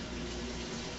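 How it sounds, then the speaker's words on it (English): Very hot water pouring steadily over metal canning lids in a home kitchen, a continuous close rushing splash lasting the whole moment with no talk. "So, we're just going to put very hot water in it."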